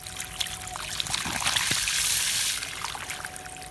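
Water pouring from a 375 W solar-powered pump fed by a single amorphous panel, a steady close trickling splash that swells briefly in the middle.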